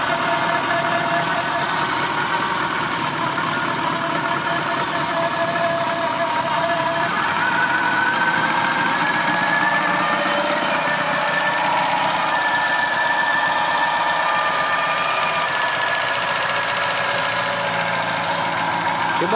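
An FSO Polonez engine idling in winter cold after a cold start, a steady mid-pitched drone with faint rhythmic valve ticking, close and continuous for nearly twenty seconds without speech.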